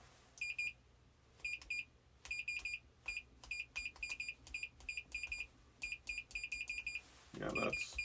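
A Fluke multimeter set to continuity gives a series of short, bright electronic beeps in irregular bursts, close and clear, with a brief rustling handling noise near the end.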